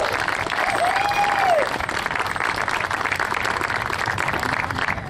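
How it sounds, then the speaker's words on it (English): A loud round of applause from a crowd for costume contest entrants, dense continuous clapping that holds steady throughout, with a brief whistle-like tone early and some voices in the mix. "Can we give them a very loud round of applause?"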